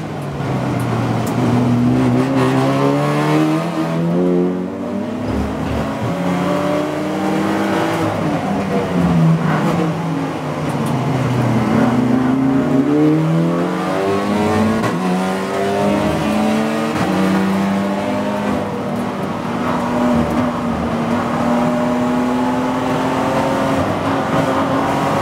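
TC America race cars battling through the tight corners of Circuit of the Americas, their engines loud and close with constant revving, upshifts and rising and falling pitch sweeps for the whole stretch.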